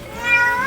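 A cat on a farm gives a single clear, drawn-out meow with rising pitch, close to the microphone against a quiet outdoor background.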